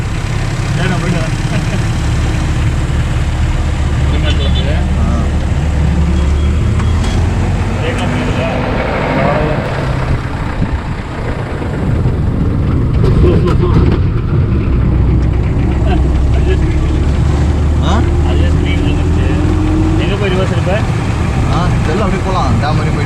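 Steady, loud engine drone of a jeep on a long road ride, continuous low rumble with road and wind noise throughout, voices talking over it now and then.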